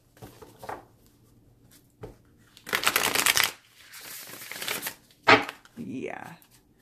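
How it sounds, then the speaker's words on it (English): Tarot cards being riffled and shuffled in a few bursts, close up, with a person's voice briefly in between. "And now to shuffle."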